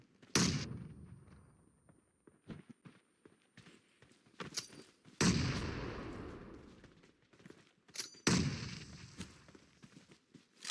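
Three heavy bombardment explosions from the mobile battle-royale game PUBG Mobile, each a loud booming blast with a long rumbling decay, spaced several seconds apart, with scattered faint clicks and thuds between them.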